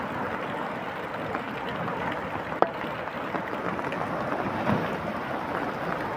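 Continuous roaring rush of fast-flowing floodwater during heavy rain in Italy, broad and steady, with a brief sharp crack partway through.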